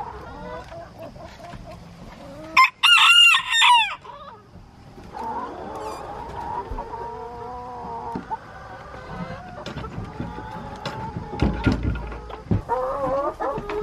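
Backyard chickens cluck and call, with one loud, shrill crowing burst near the start followed by softer scattered clucks and squawks amid faint background rustle.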